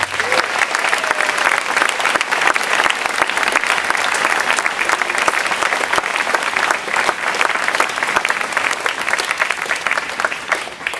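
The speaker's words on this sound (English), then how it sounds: "Let's give them a round of applause." A large crowd claps steadily and enthusiastically, a dense, sustained wash of applause that carries on without pause.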